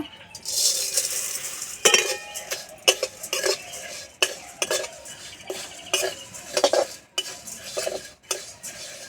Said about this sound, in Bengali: আমি প্রথমে চিড়েগুলো ভেজে নেব